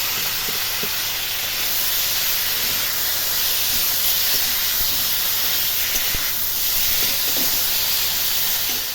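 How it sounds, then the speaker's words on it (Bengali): Ground spice paste frying with lightly fried potatoes in a pan, giving a loud, continuous sizzling hiss that holds steady throughout. "এবার আমি এর মধ্যে দিয়ে দেবো বেটে রাখা মশলা।"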